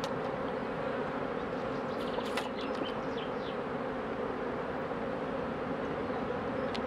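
Honey bees buzz steadily around a beehive in a continuous, dense hum. A few louder individual insects pass close by now and then.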